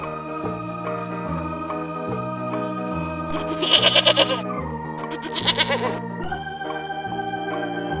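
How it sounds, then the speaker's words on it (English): A farm goat lets out two quavering, nasal bleats separated by a brief pause, heard clearly over a continuous musical accompaniment. "Goat."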